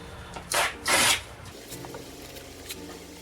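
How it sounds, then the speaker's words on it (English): Vinyl lettering film being burnished down over a colored pencil drawing, two loud rubbing strokes close up in quick succession, then faint scattered scratching against a low background hum. "You just got to really burnish it down."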